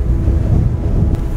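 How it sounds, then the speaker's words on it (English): Strong wind gusting steadily into the microphone outdoors on a trout fishing trip, a loud continuous low roar and rumble with no speech. "So windy."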